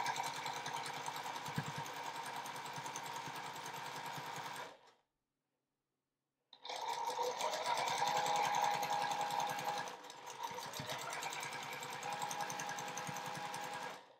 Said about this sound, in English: now let's sew in the other direction